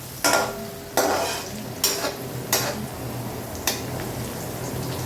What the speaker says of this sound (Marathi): तेल गरम असल्यामुळे मनुके पटकन होणार आहेत